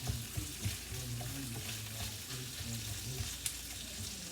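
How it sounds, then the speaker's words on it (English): Sausage sizzles steadily in a hot pan, a close crackling hiss with occasional utensil clinks and a low hum underneath. "the sausage is here. Starting to sizzle again"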